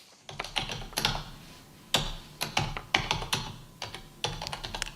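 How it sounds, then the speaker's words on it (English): Computer keyboard typing played alone, with irregular bursts of close, crisp key taps in quick clusters separated by short pauses. "I'm going to play the sound of someone typing."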